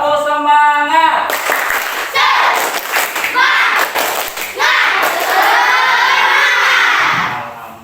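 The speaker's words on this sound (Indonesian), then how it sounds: "tepuk semangat" Children in a classroom shout and chant a spirited clapping routine led by a teacher, loud crowd voices with thumps and claps throughout.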